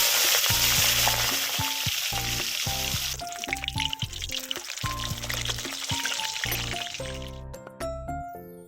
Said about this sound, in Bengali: তেলটা খুব ভালো করে গরম হয়ে যাওয়ার পর এবার আমি মাছের মাথাগুলো এক এক করে ভেজে নেব।